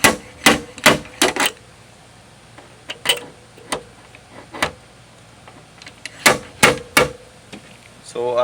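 A body hammer taps a car body dent in a repair shop, heard as sharp metallic knocks in quick clusters of three or four with short pauses between them, close and loud against a quiet background.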